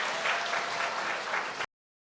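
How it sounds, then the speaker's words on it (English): Applause from the audience at the 2022 Miss Chinatown USA pageant, a dense, steady wash of many hands clapping at moderate volume, cutting off abruptly after under two seconds. "Give them a round of applause."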